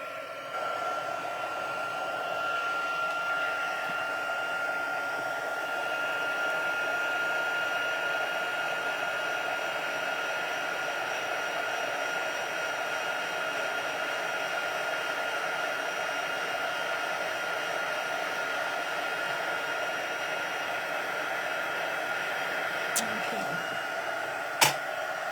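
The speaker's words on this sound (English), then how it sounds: "I'm going to bring in my heat gun" Heat gun blowing steadily at a crafting table, a constant whooshing fan roar with a faint high whine running unbroken for about twenty-five seconds, with a small click near the end.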